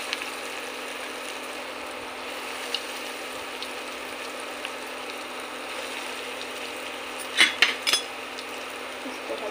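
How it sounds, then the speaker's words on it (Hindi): Bread rolls fry in hot oil in a pan, a steady soft sizzling hiss with a few light utensil clinks near the end, and no talk. "अब करती हूँ मैं इसको फ्राई।"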